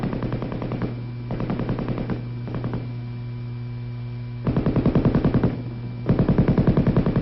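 An M60 7.62mm belt-fed machine gun fires in several rapid bursts, the rattling reports loud and evenly spaced over a constant electrical hum from an old 1960 film soundtrack.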